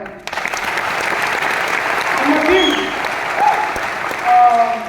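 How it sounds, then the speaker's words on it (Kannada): Applause for Raju D G fills the room from the first moments, a dense crowd clapping steadily throughout, with a few voices speaking over it near the end. "ರಾಜು ಡಿ ಜಿ ಸರ್ ಒಂದ್ಸರಿ ಚಪ್ಪಾಳೆ"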